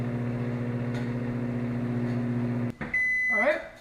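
A microwave oven hums steadily for nearly three seconds, then stops with a click and sounds an electronic beep as the door opens, close and clear, with a brief voice near the end.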